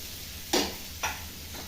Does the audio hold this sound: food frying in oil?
yes